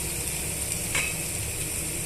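Potato curry mixture for a poori side dish being stirred in a pan after salt is added, a continuous close sizzle with faint scraping, no voices.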